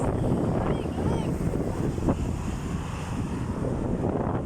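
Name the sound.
strong wind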